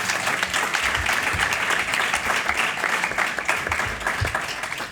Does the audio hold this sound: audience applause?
yes